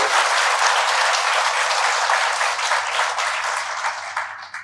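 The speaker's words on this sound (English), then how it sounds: "we have a huge round of applause for it." Loud, dense audience applause from a student crowd at an honest-talk session at IITM, a sustained wash of many hands clapping that holds steady for several seconds and starts tapering near the end.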